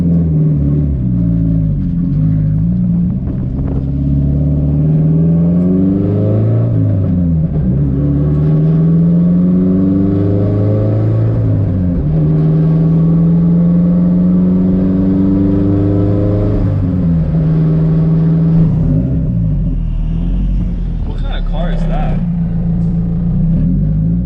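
An SR20-swapped Nissan S14 drift car, heard from inside on a street drive, loud and close, its engine revving up and down through repeated sweeping pulls and shifts with a constant rumbling drone, occasional brief voice under it.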